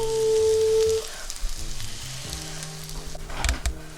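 Food frying in butter in a pan gives a steady crackling sizzle, close and moderately loud, with a brief tone at the start and some clinks of utensils near the end.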